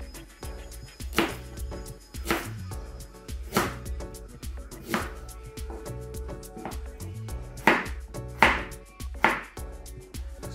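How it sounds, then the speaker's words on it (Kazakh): Knife chopping carrots into medium sticks on a cutting board, a series of crisp individual strikes at an uneven, unhurried pace, close and clear with faint background hum. "Енді сәбізімізді орташа таяқша қылып турап аламыз."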